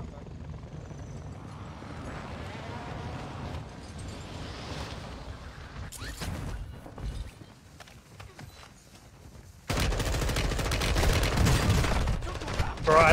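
Gunfire in a multiplayer shooter video game, with dense rattling volleys that grow louder and more sustained toward the end, mixed with players talking.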